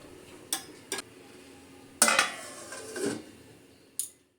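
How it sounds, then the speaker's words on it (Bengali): A lid clatters onto a cooking pot of drumsticks and potatoes, with a few sharp metallic clinks first and then a louder clang and rattle before one last tap, close by in a quiet kitchen. "তো এবার আমি এটা কিছুক্ষণের জন্য ঢাকা দিয়ে দেবো।"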